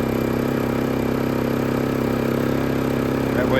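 A WEN 3600 generator engine runs steadily nearby with a constant, even mid-pitched drone and a faint rhythmic clatter, unchanging throughout.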